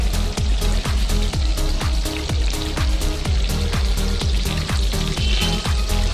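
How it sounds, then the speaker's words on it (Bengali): Boiled cabbage frying in oil in a wok, a loud, close, dense crackling sizzle with rapid popping that carries on steadily throughout. "তো বন্ধুরা দেখুন, আমরা পাতাকপিটাকে ভেজে নিচ্ছি।"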